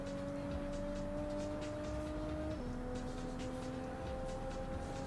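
A race car in Gran Turismo 7 drones with a steady engine tone that drops in pitch midway as it brakes into a corner, continuous and close with no talk over it.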